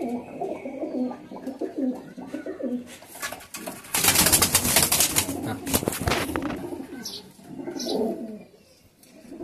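Malbai pigeons cooing in a loft: repeated low, throaty coos, close and overlapping, with a brief rustle of wings and a louder burst in the middle, and faint voices now and then.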